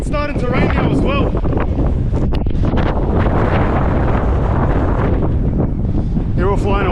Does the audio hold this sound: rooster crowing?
no